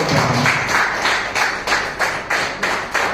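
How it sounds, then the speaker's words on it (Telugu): A group claps in a steady rhythm at an event on women's empowerment and leadership, the claps evenly spaced and fairly loud for about three seconds, with no talking. "చప్పట్లో గట్టిగా"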